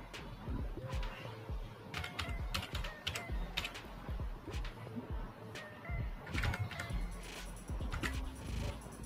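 Username and password typed on a computer keyboard, a steady run of close, crisp key clicks with uneven rhythm and brief pauses, alone with no talk.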